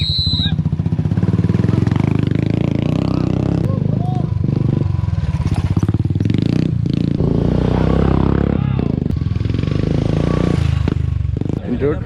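Royal Enfield Himalayan motorcycles race on a dirt course, engines revving and snarling continuously up close, with clattering and scraping from the bikes and voices audible throughout.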